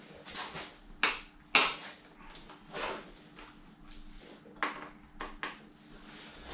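A 12mm wrench works loose the brake caliper bolts on a DRZ400 motorcycle front end, giving several sharp metallic clicks and clanks at irregular moments, close and fairly quiet, with soft handling noises between them.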